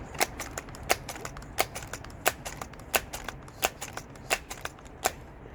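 A Daisy 990 CO2 air rifle plinking at targets, giving a quick run of about a dozen sharp, crisp pops at fairly even intervals, each followed by a faint tick, with no talk.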